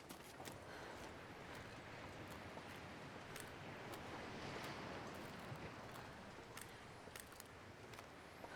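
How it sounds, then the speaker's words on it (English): Wind gusting along a dark coastal inlet, a steady, fairly faint broadband rush with faint surf-like wash underneath and occasional small crackles, no voices. "I'm loving this wind"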